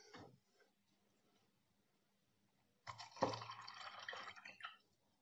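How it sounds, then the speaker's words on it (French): Water poured into drinking glasses for a balance-scale floating demonstration, heard as a short near burst of splashing and gurgling filling that follows a brief drip and a quiet pause. "On va remplir nos verres d'eau."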